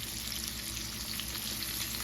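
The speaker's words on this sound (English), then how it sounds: "Hear that nice sizzle?" Pork chops sizzling in a preheated hot skillet, a steady, close crackling fry with bright popping spatter, continuous throughout with no voices.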